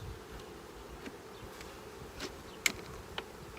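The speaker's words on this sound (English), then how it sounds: "Bees are getting less fun to be around than most of these." Bees drone softly and steadily, with a few louder buzzes darting past near the microphone and no talking.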